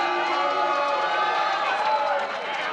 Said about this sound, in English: I hear some cheering and I also hear some booing